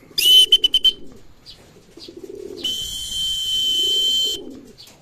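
A racing pigeon coming down at a loft during a derby race, with soft low cooing in bursts and bright high chirps and whistles overhead, close by and fairly loud with no one talking.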